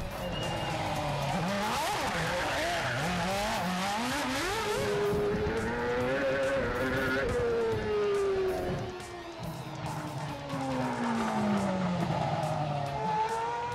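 Formula One cars race on a street circuit around the Kremlin in Moscow, with loud high-pitched engine whines rising and falling as they accelerate and pass, and tyres squealing, all continuous and fairly close.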